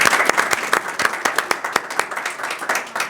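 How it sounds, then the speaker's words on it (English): An audience gives a round of applause for event sponsors at a Coffee and a Mic talk, a steady burst of many hands clapping nearby with no talking. "Let's give them a round of applause."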